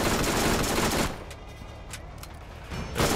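Turret gunfire in the shooter game Borderlands: a dense, loud burst of rapid shots for about a second, then quieter scattered cracks, with the heavy firing resuming at the end.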